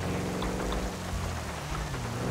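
Heavy rain falls in the video game GTA 5 while driving a car, a steady, dense hiss of downpour with a low rumble beneath it, continuous and even throughout.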